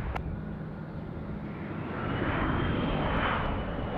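An airplane roars at Chicago O'Hare International Airport, a broad steady engine rumble that swells louder midway, as if passing nearer.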